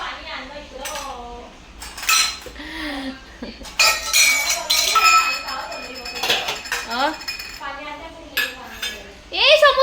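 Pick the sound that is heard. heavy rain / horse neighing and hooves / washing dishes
washing dishes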